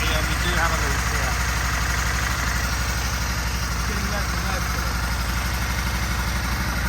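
A 2001 Aprilia RST 1000 Futura motorcycle engine idles steadily while warming up, a close, continuous low throb that holds level for the whole stretch, with faint background noise over it.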